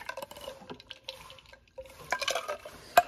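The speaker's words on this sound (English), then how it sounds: "I want to dilute it with some water to make it essentially a cup of coffee" Water poured into an iced espresso coffee, a soft trickling splash with clinks of ice and cup, quiet and close, swelling toward the end with a sharp clink.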